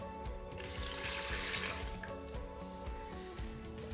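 Water poured from a cup into a blender jar for a kid-friendly green smoothie with spinach, a steady close splashing pour lasting several seconds with no talking.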